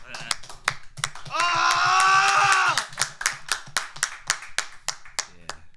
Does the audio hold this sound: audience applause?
yes